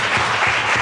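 Church congregation clapping together in sustained, dense applause, loud and close, filling the whole short moment with no voices on top.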